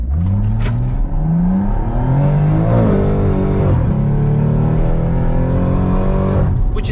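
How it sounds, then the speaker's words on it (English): A BMW M140i turbo car launches with wheel spin from an open differential, engine revving hard and climbing through rising pitches, loud and close from inside, with a gear shift dip before pulling again. "There was quite a fair amount of wheel spin"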